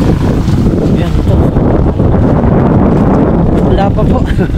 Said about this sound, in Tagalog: Malakas ng hangin din po rito eh.